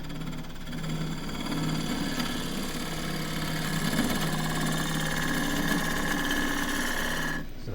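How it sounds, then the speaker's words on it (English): A wood lathe spins a tray blank while a slightly radiused 1-inch square end scraper cuts it, giving a steady motor hum with a rhythmic vibrating buzz and a faint scraping texture, close and continuous. "I'm going to do that with a slightly radiused 1-inch square end scraper"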